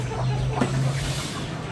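Chickens clucking in short bursts over a steady low hum, with a busy background of farmyard noise from a backyard chicken pen in a rural village.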